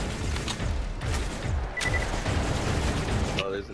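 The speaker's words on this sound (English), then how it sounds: "another autocannon." Rapid autocannon bursts and booming gunfire from the Borderlands 2 video game, a dense continuous barrage of shots with loud impacts running through the whole stretch.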